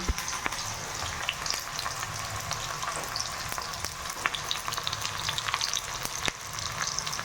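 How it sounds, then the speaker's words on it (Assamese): Onions frying in oil in a pan for a home-style chicken dish, a steady close sizzle with crackling pops and light stirring scrapes throughout, no talking. "দিনাৰত আমি তেল দি লৈছো তাৰপিছত পিঁয়াজ দি দিছো"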